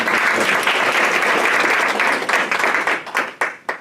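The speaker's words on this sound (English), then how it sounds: "let's give a warm round of applause to our students" A school audience gives students a warm round of applause at a digital learning event, loud and dense at first, then thinning into a few scattered separate claps as it dies away.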